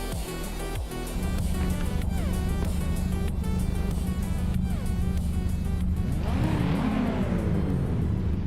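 Race cars accelerate off the start at the Berlin E-Prix track, including a 1993 BMW M3 E36, in a loud, sustained roar of engines with rising revs and gear changes, dense and continuous.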